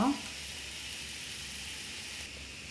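Oil and ghee sizzle in a pan while a dal tempering is readied, a soft steady hiss that follows a brief clatter at the start and continues faintly throughout.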